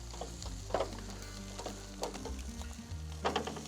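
Pav bread toasts in butter on a hot pan, giving a low, steady sizzle with a few soft stirring or scraping knocks spread through it, fairly quiet and with no voices.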